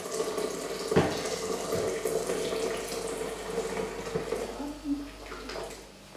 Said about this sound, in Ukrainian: Тепер ми це по чуть-чуть виливаємо воду.